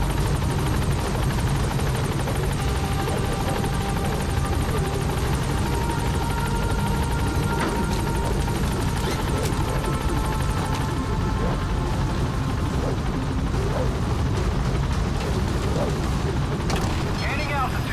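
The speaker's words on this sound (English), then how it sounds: "Get to the chopper." A helicopter in the video game Metal Gear Solid V roars loud and close throughout, with a dense rotor and engine rumble and occasional faint voices under it.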